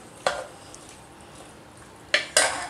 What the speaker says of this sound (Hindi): ये ज़रा सा पानी इसमें ऐड कर देंगे और सबको अच्छी तरीके से मिला देंगे।